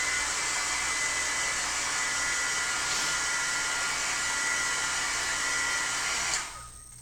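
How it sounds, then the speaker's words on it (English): A heat gun blows steadily on an inked, stencilled paper card, a loud continuous airy roar that holds for several seconds, then cuts off abruptly near the end, leaving a quiet tail. "Let me hit it with the heat gun."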